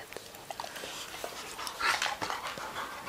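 A puppy pants quickly and softly while being petted, with brief whimpers mixed in, close by and fairly quiet throughout.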